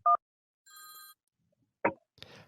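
A phone call routed over Bluetooth, with short electronic tones: a brief beep, a sustained ringing chime, then clicks and a faint burst of noise, separated by silence.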